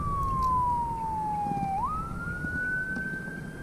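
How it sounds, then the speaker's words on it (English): A siren wails loudly and steadily, its tone gliding down and then sweeping back up, over a rumbling background of boat engines and traffic on the Anclote River at Tarpon Springs. "Boats and sirens."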